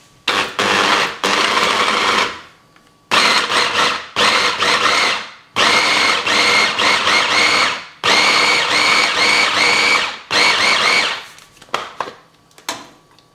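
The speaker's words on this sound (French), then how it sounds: "Vous mettez le poisson dans votre robot. Et vous le mixez très finement." Fish is blended very fine in a kitchen food processor, loud whirring bursts of a few seconds each with short pauses between them, winding down into short pulses at the end.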